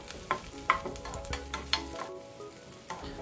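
Onions and green chillies sautéing in a pan for Andhra-style chilli chicken curry, a close sizzle broken by several sharp spatula scrapes and clinks, with no talking.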